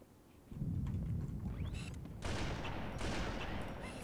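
Gunfire from the video game Halo 2 on Legendary difficulty during house-to-house fighting, a dense burst of rapid shots and explosive rumble filling the clip, loud and continuous with a second heavier volley midway.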